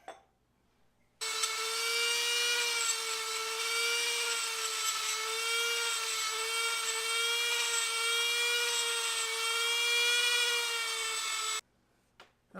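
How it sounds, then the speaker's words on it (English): A Dremel rotary tool spinning a wire wheel against the metal of a grenade being restored, a steady high-pitched whine that holds for about ten seconds, close and loud, starting and stopping abruptly. "I think I need to Dremel that, the wire wheel again."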